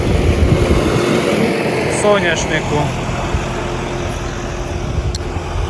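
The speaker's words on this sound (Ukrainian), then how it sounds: "Поки трактор колотиться, минут 15 буде колотитися" A tractor engine idles steadily while a sprayer tank mixes for sunflower spraying on a farm field, a continuous low rumble throughout, with a person speaking over it.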